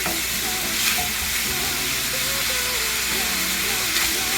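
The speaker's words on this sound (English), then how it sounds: "so they can just come to that gentle simmer that you want" Charro beans, a Mexican bean dish, simmering in a pot over medium-low heat, giving a steady close bubbling hiss with some clattering and faint tonal sounds but no speech.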